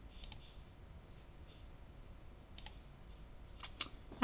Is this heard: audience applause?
no